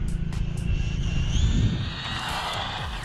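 An RLAARLO AM-X12 RC car on 4S power runs its motor at high speed during a speed run, a loud continuous high-pitched whine that rises in pitch and holds steady, with a low rumble underneath.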